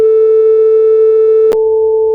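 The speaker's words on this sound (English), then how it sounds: "So this is a pure tone, single frequency sound." A steady, continuous pure tone at a single pitch, loud and unwavering, with a brief click near the end as it shifts slightly, alone and with no voices.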